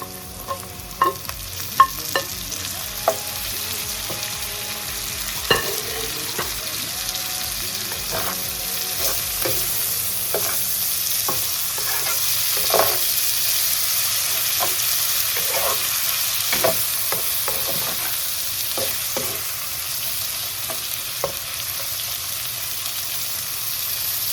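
Tomato goes into a hot pan of translucent onions for Bhutanese chicken paa and is stir-fried, a steady sizzling hiss throughout broken by frequent spatula clacks and scrapes, busier at first and then sparser.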